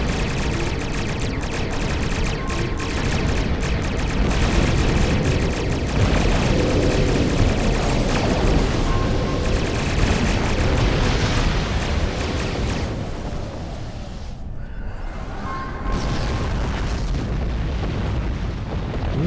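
Starship standard weapons fire continuously in the space game Star Trek Online, a dense, loud barrage of booms and bursts layered over one another, briefly easing before resuming.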